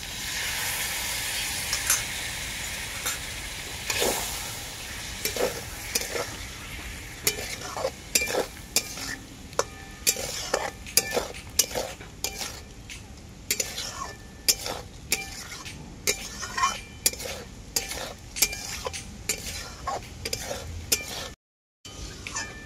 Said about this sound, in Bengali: টক দই দেওয়ার পর মশলাটাকে আমি খুব ভালো করে আবারও কষিয়ে নিয়েছি